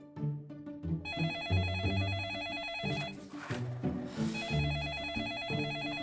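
An electronic telephone ring repeats in bursts over busy background music with layered tones, fairly loud and continuous.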